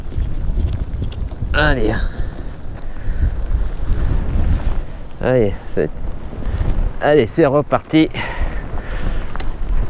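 Wind rushing past the microphone while cycling outdoors, a constant loud roar with gusty buffeting, as someone speaks briefly a few times over it.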